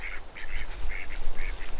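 A small group of farm ducks quack in a quick, repeated series of nasal calls, close and fairly loud, with no talking.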